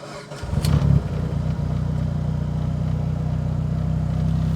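A Mitsubishi Evo 8 engine fires back up with a brief rising burst, then holds a steady, moderately loud idle hum.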